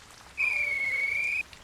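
A railway guard's whistle gives a single shrill, sustained blast lasting about a second, clear and fairly close over a soft rain-like background hiss.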